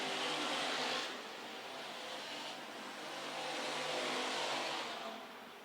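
Pure stock race cars roar around a speedway oval during a feature race, a broad continuous engine wash swelling and fading as the pack sweeps past, with no talk over it.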